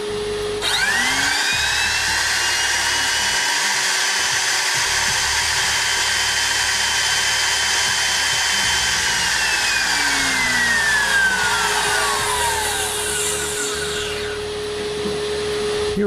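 A CNC machine spindle spins up with a rising whine, runs at a loud, steady high pitch for many seconds, then winds down near the end, close and with no voices.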